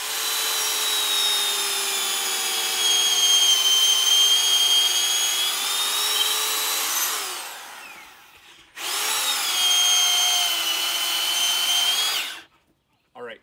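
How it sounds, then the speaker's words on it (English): A power drill fitted with an auger bores a hole for rebar while landscape stairs are built outdoors, a loud steady whine for about seven seconds, then a short pause and a second burst of drilling before it stops. "So we'll go ahead and drill that up."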